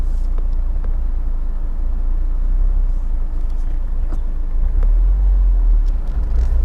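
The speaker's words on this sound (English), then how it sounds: "let's do a couple of standing starts and see how we turn out." A Honda S2000 makes a standing start in first gear, a deep low rumble from the car that swells twice as it pulls away, with faint clicks from the rear end.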